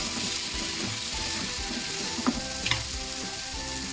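Raw tomatoes fry in hot oil in a pan for a raw tomato chutney, with a steady close sizzle throughout, occasional stirring scrapes and a few sharp pops near the end.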